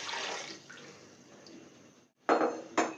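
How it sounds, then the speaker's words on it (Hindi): About 1.5 litres of water is poured into a pot of beef for Afghan-style pulao, a soft splashing pour that fades, then two short sharp splashes follow after a brief pause. "अब मैं इसमें डालूंगी पानी।"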